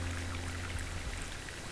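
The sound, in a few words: water leaking from sink in video game House Flipper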